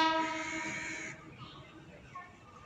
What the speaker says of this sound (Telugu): హార్న్ కూడా ఇచ్చేసాడు